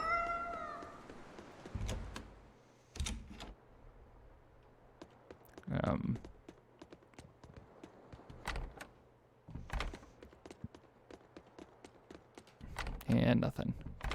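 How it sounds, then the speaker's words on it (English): A cat in the video game Tales of Berseria meows in short, faint cries scattered between clicks and footstep-like taps, with a low background hum and a player talking now and then. "I found a cat."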